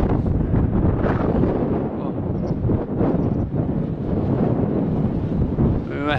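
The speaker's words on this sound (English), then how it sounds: "We seem to be dried out with the wind." Strong wind gusts buffet the microphone on a hike past a row of windmills, a loud continuous roar with low rumbling throughout and a faint voice breaking through at the end.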